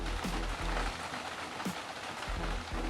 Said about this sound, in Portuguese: Tá caindo uma chuva muito forte aqui em cima.